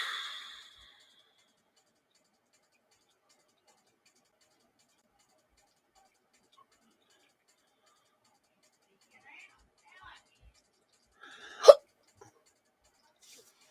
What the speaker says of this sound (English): got the hiccups and it's driving me crazy